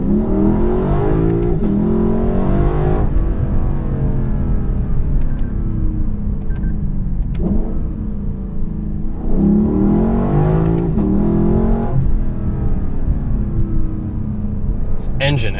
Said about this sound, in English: This engine absolutely snarls and barks, and it huffs and chuffs between shifts